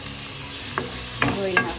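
Tomato sautéing in spiced masala for a mackerel chilli fish curry hisses in a pan, a steady close sizzle with a few short stirring scrapes and clinks.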